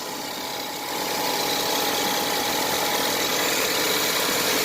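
Ford Fusion or Lincoln MKZ cooling fans running with the air conditioning on: a steady broadband whoosh that swells after the first second and holds, loud and close, with no talk.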